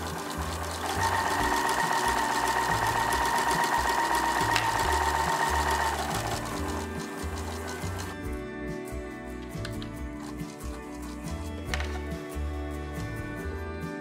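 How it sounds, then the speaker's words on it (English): A sewing machine stitches a quilt border in a steady, fast mechanical whir with a rhythmic needle knock, close up, the pace changing partway through as it secures the stitches. "Now we're going to sew from dot to dot, securing the stitches at each end."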